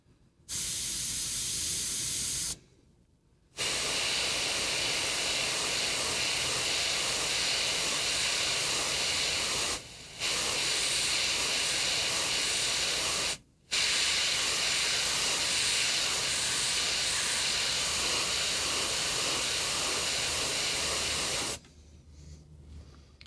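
An airbrush spraying contrast paint onto a Kingdom Death Black Knight miniature gives a steady, close hiss in long unbroken bursts, cut by short pauses where the trigger is released.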